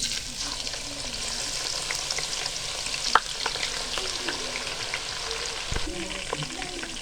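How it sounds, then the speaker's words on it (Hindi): Sliced onions fry in hot oil for crispy fried onions, a continuous dense sizzle with occasional stirring scrapes and a light clack, close and even throughout. "ऑयल हमारा गर्म हो चुका है, इसमें हम प्याज डालेंगे।"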